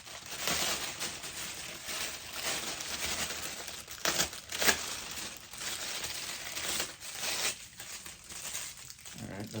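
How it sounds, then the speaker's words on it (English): Plastic wrapping torn and peeled off a newly bought audio system, with crinkling, ripping bursts and rustles throughout, close and fairly loud, while a person talks over it. "And I can tear the plastic."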